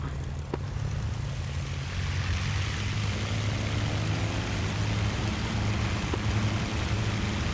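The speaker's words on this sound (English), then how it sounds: "Hurricane sound design is top notch" A ShVAK-armed Hawker Hurricane fighter's engine in a VR dogfight game throttles up into a loud, steady, close droning roar that swells slightly after the first couple of seconds and holds, with no talk.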